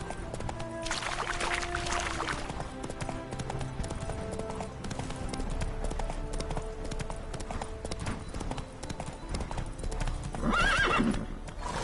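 Steady clip-clop of horse hooves trotting close by in the video game The Witcher 3, with a horse whinnying near the end over a busy background of music and ambience.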